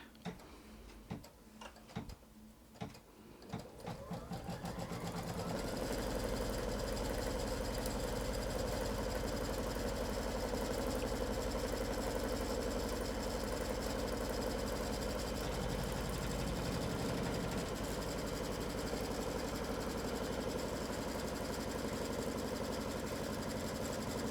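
An embroidery sewing machine stitches a quilt block in the hoop, starting with a few separate ticks, then settling into a loud, continuous, even mechanical whir with a fast repetitive needle rhythm.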